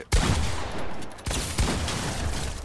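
Gunshots from a first-person shooter game in a 1v1 match: two loud, close blasts with sharp attacks and long reverberant tails that fill the short stretch, with no talking.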